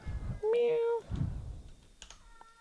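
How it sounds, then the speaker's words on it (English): A cat gives a single drawn-out meow nearby, with people talking quietly before and after it. "You may be hearing them meowing in the background."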